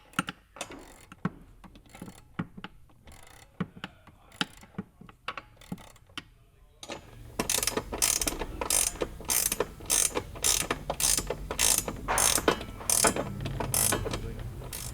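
Ratchet wrench tightening bolts on C7 Corvette harness bar brackets, sounding first as scattered single clicks, then as dense, louder rapid ratcheting bursts, close up.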